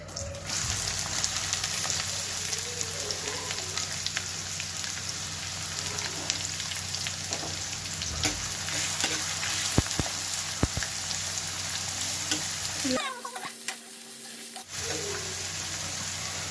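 Cloves, cardamom and onions frying in oil in a pan for Hyderabad-style chicken curry, a steady, rain-like crackling sizzle with scattered sharp pops, briefly interrupted near the end before the hiss resumes, with no talk.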